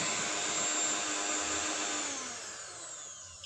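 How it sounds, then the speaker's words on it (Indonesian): An electric mixer beats egg yolks for a marble cake until creamy and pale, making a steady, fairly loud motor whine that eases off toward the end and finishes with a sharp click. "Jadi di mixer aja sampai dia creamy dan berubah warna pucat seperti ini teman-teman."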